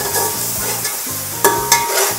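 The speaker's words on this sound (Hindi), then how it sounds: "ये मैंने चम्मच चलाया" A spoon stirs crushed green chilies and tomatoes in a hot pan for chicken yakhni pulao. Close, loud frying sizzle comes with scraping strokes and two sharp clinks of the spoon against the pan.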